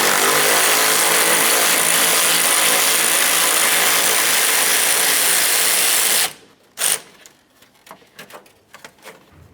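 A power tool buzzes steadily and loudly for about six seconds while backing out a 10mm bolt near the radiator of a 2007-2012 Nissan Sentra, then stops, followed by a few light clinks and handling noises.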